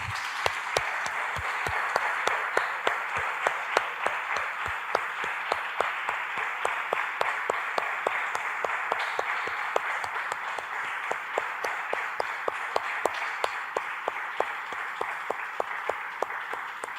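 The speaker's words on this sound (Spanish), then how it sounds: "Damos un aplauso, hermanos, al Señor." A church congregation in Costa Rica clapping in a steady rhythmic beat during a worship service, sharp, evenly spaced claps continuing for the whole stretch at moderate loudness without speech.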